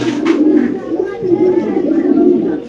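A king pigeon of cream bar colouring coos at a pigeon farm, a close, loud, continuous low rolling coo that pulses steadily throughout.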